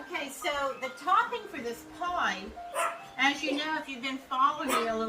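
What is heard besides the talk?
No everyday noise stands out behind the speech.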